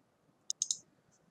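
Computer mouse clicking during building import in PlaceMaker software: three quick sharp clicks close together, then a faint fourth click, near and alone over a quiet room.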